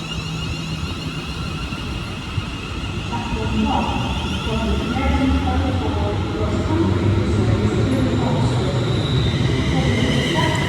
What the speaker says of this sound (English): there goes the 11 o'clock London North Western Railway service to Crewe from Birmingham New Street